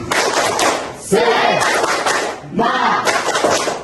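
A high school class performs a rhythmic group clap chant, with bursts of sharp, patterned clapping and shouted voices in two or three loud waves separated by short pauses.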